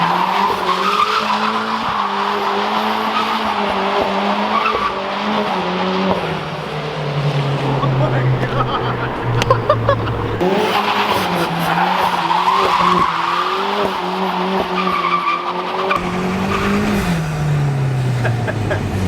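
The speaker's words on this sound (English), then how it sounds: "Dude, I'm that guy now. I can drift." A car with a welded differential drifts, its tires squealing and skidding loudly in long sustained wails over a revving engine that rises and falls, close and continuous throughout with no talking.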